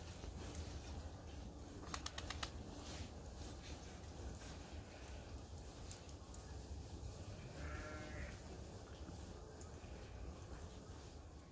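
Sheep on a farm just after ear tagging, with a few faint, distant bleats rising over a low steady outdoor hum, with no voices.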